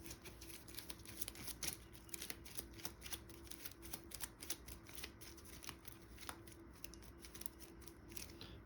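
Playing cards from the GI Joe deck-building game riffle and shuffle in quick crisp bursts, close up and fairly quiet, with no talking.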